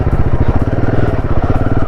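A Royal Enfield Himalayan 450 motorcycle engine revs loudly up close, a deep pulsing throb with rapid, choppy firing beats that hold steady throughout.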